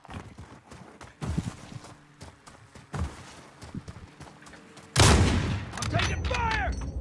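Gunfire in a Call of Duty style shooter with an AX-50 sniper build, mostly scattered light shots early, then a loud dense burst of firing from about five seconds with crackling and whizzing effects in the game mix.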